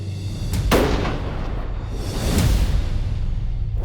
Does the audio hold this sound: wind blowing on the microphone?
no